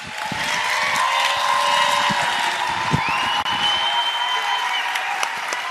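An audience applauds steadily and fairly loudly for several seconds, a dense, continuous wash of clapping with occasional cheers, with no talking over it.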